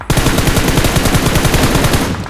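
Rapid automatic gunfire from a BGMI (PUBG Mobile) match, a loud continuous burst of evenly spaced shots lasting about two seconds, close and dominant with no voices.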